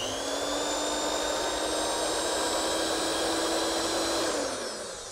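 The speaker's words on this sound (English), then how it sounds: "we can turn the motor on and off wirelessly" A big motor powered through an ESP8266-controlled Wi-Fi socket runs with a loud, steady high-pitched whine and a broad whirring roar, close and continuous, beginning to spin down at the very end.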